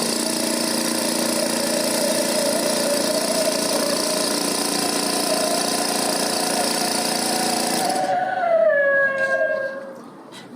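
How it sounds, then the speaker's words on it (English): A laboratory vacuum pump runs with a steady motor hum and whine, then shifts into a rising, whistling pitch sweep as it draws liquid through, close and fairly loud with no talking. "Get a vacuum pump to pull it through."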